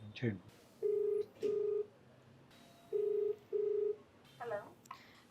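An outgoing phone call rings through the line: two pairs of even ringback tones over faint line hiss, with brief handset noises at the start and end.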